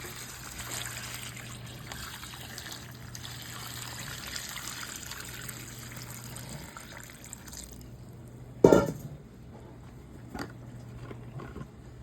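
Water trickles and splashes steadily into a cooking pot, a soft continuous pour with a brief louder splash near the end.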